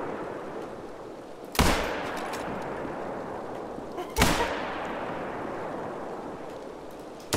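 Rifle shots in the hunting game theHunter: Call of the Wild: two loud, sharp cracks a few seconds apart, each trailing into a long rumbling echo, with a third shot just starting at the end.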